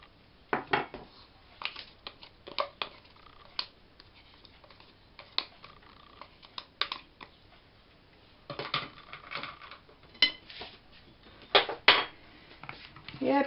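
Irregular clinking and tapping of a utensil against a bowl as eggs are mixed into a sour cream cookie dough, with bursts of scraping strokes scattered through fairly quiet background.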